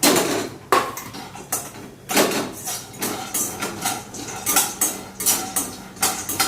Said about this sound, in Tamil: எல்லாத்தையுமே சேர்த்து ட்ரை ரோஸ்ட் வந்து பண்ணிக்கலாம்